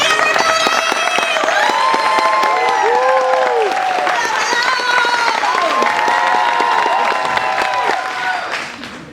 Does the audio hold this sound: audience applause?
yes